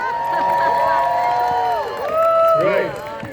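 A parade crowd at the Cherry Blossom Festival in Washington, DC cheers and whoops loudly and continuously, with rising shouts and voices layered over a constant roar.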